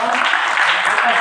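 An audience claps together in a dense, continuous burst of applause, loud and close throughout the short moment.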